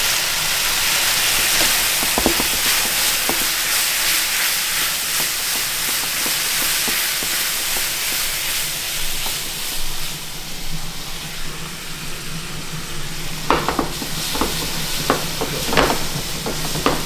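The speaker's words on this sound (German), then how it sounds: "den Alkohol verdunsten lassen" A pan of pepper cream sauce sizzles steadily as the alcohol cooks off, a loud continuous hiss with occasional clinks and stirring taps, busier toward the end.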